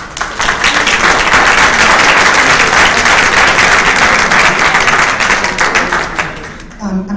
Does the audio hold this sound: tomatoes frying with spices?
no